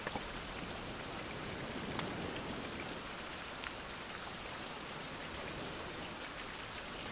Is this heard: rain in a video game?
yes